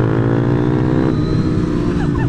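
KTM Duke 390 motorcycle engine fitted with a slip-on exhaust, running with a steady, loud, close rumble at idle and rising briefly near the end.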